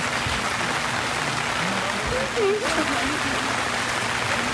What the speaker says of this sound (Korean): 비가 점점 많이 오나 봐.